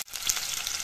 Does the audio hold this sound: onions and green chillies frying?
yes